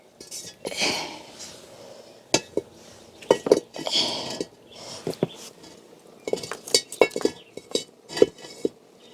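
A metal pot and utensils clink and knock repeatedly while Jamaican castor oil is cooked and skimmed outdoors, with irregular clatters and scrapes close by.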